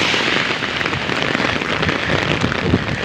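Heavy rain pours on a street in Yuen Long, Hong Kong, near a bus stop. The rain is a steady, dense hiss that fills the whole clip at close range, with no voices.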